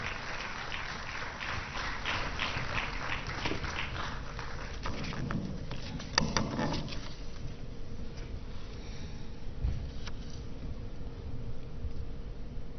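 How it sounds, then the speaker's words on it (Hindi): An audience at a formal award ceremony claps steadily and fairly loudly to welcome a speaker, a dense patter that holds throughout with no voices over it. "जोरदार तालियों से मैडम का स्वागत किया जाए"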